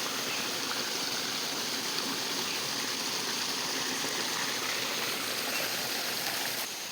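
Water seeping up out of the ground and running between stones beside a wall, bubbling where it emerges, makes a steady, close, broadband rushing flow that continues evenly throughout.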